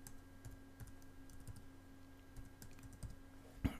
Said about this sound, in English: Let me just type this out.